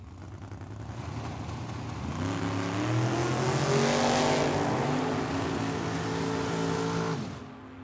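A purple Chevelle drag racing at Tucson Dragway builds from a low rumble into a loud, rising engine roar that holds for several seconds, then cuts off sharply near the end.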